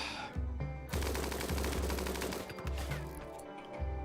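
RimWorld gunfire hitting a colonist: dense, loud bursts of rapid automatic shots with brief gaps, sustained and close, heard alone without talk.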